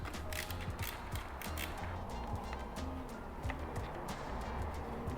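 3mm hex key unscrewing a taillight screw on an Aprilia RSV4 motorcycle, faint repeated metallic ratcheting clicks and creaks at close range, steady and quiet without talk.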